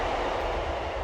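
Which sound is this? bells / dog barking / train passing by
train passing by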